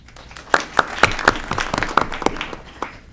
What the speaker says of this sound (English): if we can hold the applause till they all introduce themselves